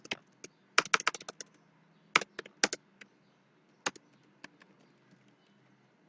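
Keys clack on a computer keyboard while a value is entered during a web form tutorial, short bursts of close taps with pauses between, then a few scattered single strokes fading out.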